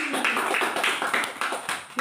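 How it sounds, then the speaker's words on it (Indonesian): A group of children clap together in quick, uneven bursts, fairly close, with some voices mixed in among the claps. "Pintar, tepuk tangan lagi."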